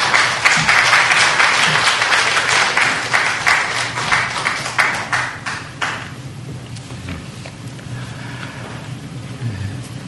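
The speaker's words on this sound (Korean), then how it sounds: "박수로 환영해 주시겠습니다" An audience applauds to welcome a Christian ethics professor to the lecture stage at a forum, a loud, dense burst of clapping that thins out after about six seconds and leaves faint room noise.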